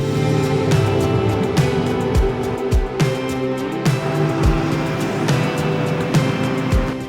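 A restored 1992 Land Rover Defender 110 with a 6.2-litre LS3 V8 and six-speed automatic drives past, its steady engine drone running throughout with brief bumps and thumps from the road surface.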